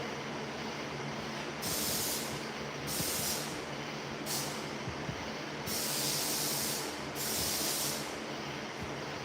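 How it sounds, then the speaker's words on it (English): Brake cleaner sprayed around brake parts during a brake pad and rotor change, heard as four loud hissing bursts of a second or so each, separated by short pauses, with no talking. "we're going to spray everything around over here"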